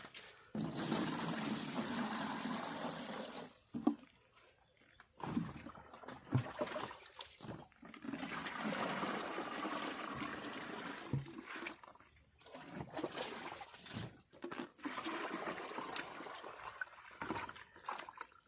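Water running from a hose or tap into a container, filling it to dilute homemade organic liquid fertilizer for watermelon and melon beds; a steady rushing flow broken by brief pauses and splashes, close by, with no speech.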